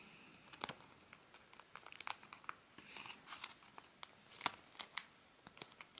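Origami paper is folded and creased by hand for a paper cow, producing close, faint crinkles and soft papery rustles in irregular bursts with no talking.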